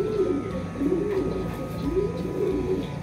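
Racing pigeons cooing in repeated soft, throaty phrases, close by, with a faint background hum and occasional rustling.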